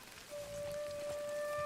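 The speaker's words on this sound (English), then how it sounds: "It's raining." Soft, steady rain falls in Ghost of Tsushima, a faint wash of patter that swells a little after the start, while a thin tonal game sound hums underneath.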